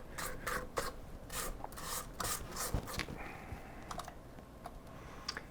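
Spatula scraping sugar down the sides of a mixing bowl while making Frangelico cream, a run of quick, close rasping strokes with a few sharper scrapes and knocks, no talking.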